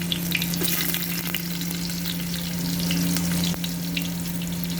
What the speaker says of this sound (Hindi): मैं आलू डाल रही हूँ फ्राई करने के लिए।